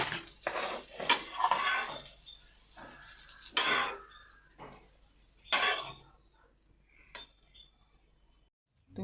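Bread omelette being served onto a plate, with light clinks and scrapes of utensil on dish in short separate bursts, fairly close, spaced by quiet pauses.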